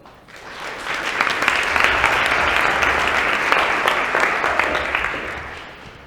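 An audience at a medical talk applauds to welcome Dr. Frank Rasler. The dense clapping swells quickly, holds steady and loud for several seconds, then tapers off.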